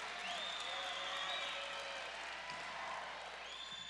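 A volleyball crowd at a championship match cheers and applauds steadily at a distance, a faint sustained roar with no clear peaks.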